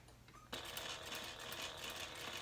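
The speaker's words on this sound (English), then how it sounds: "as we sew at the bottom and attach it to the lining, we're closing up our turn hole" A sewing machine stitches the bottom of a handbag lining closed, sealing the turn hole: a steady, close mechanical whirring hum that starts abruptly after a quiet moment and runs on evenly.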